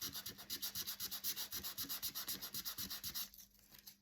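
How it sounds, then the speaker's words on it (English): Very fine sandpaper rubs over paper card in quick, even back-and-forth strokes, a close, steady rasping that continues for several seconds and then stops abruptly. "And you can see how it's taking that layer of paper off. This is very, very fine sandpaper."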